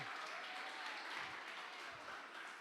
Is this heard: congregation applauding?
yes